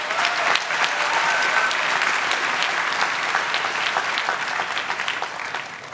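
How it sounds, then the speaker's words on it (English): An audience at a graduate school of education convocation breaks into sustained, dense applause that fills the hall evenly and fades slightly toward the end. "That's worth clapping for."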